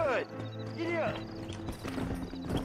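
Horse hooves clip-clop in the Red Dead Redemption video game, a steady close gait under music, with a brief whinny and a person talking over it.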